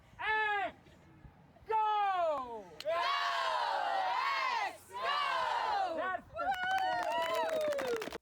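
Rugby crowd at a match answering a leader's call-and-response cheer, loud bursts of many voices shouting in unison, alternating with a single voice calling out, close and energetic.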